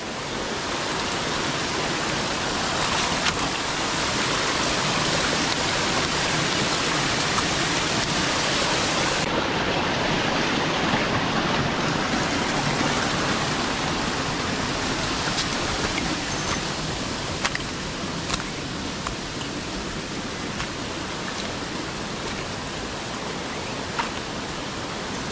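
Water gushes with strong force from a pipe in a forest, a loud steady broadband rush close by with no pause across the whole stretch, like a small waterfall.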